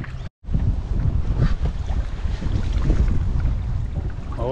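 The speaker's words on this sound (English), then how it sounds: "Blowing a gale again." A strong gale blusters across the microphone beside a canoe on open water. The loud roaring wind buffets continuously and never lets up.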